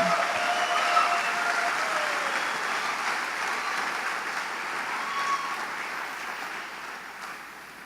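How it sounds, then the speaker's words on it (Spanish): A church congregation breaks into loud, steady applause for the Lord during a sermon, a thick continuous roar of many hands clapping that slowly tapers toward the end. "Alguien déle un aplauso fuerte al Señor."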